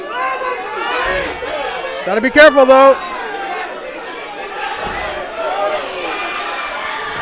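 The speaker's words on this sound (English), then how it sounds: "the crowd is actually yelling for knees as well" Fight crowd at a World Combat Series bout yelling for knee strikes, a loose roar of chatter and shouts under an announcer's steady commentary, with a brief louder burst of cheering partway through.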